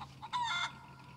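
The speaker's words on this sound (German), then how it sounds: "Ein Huhn!" A chicken in the video game SCUM gives a short, close cluck followed by a brief squawking call, alone over a faint low background hum.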